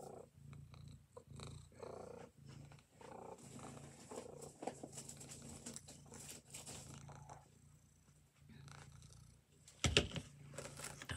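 A house cat purrs close by in a quiet room, a soft continuous rumbling pulse with brief pauses, ending with a short louder bump.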